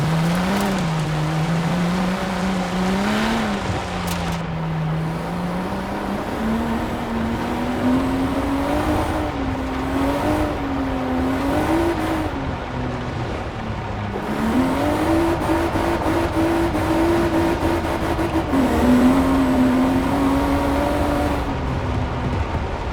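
A BMW M4 Coupe drives off-road up a sloped area, its engine droning steadily with the pitch rising and falling as the throttle changes, loud and continuous throughout with some crunching from the tires.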